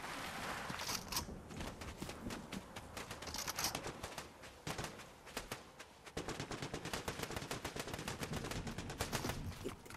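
Rapid bursts of video-game gunfire from Fortnite, dense clusters of sharp cracks with short pauses between them, fairly faint and steady across the whole stretch.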